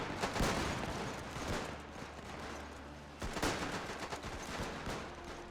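Rifle volley fired by soldiers in a WW1 video game, with dense overlapping cracks in two bursts, a loud crackling fusillade at the start and a second volley partway through, with battle din in between.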